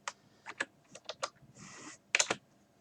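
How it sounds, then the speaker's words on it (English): Typing on a computer keyboard at a Windows 10 PC: several short bursts of key clicks in an uneven rhythm, close and fairly quiet, with a brief soft whir in the middle. "you can go into your search bar and just type in disk"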